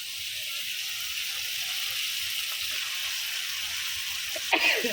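Bottle gourd leaves go into a pan of cooked-down spices over a wood-fired stove, with a steady hiss of sizzling and a brief louder crackle near the end. No one speaks.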